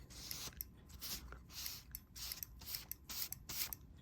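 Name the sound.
Rheem water heater blower pressure switch clicking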